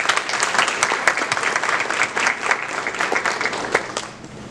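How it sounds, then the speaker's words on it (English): A school board meeting crowd applauds a student hurdler. The clapping is dense and steady, near and lively for about four seconds, then thins at the end. "Let's give them a round of applause"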